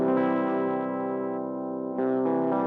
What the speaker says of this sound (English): clean setting still has some character to it. Definitely has some overdrive.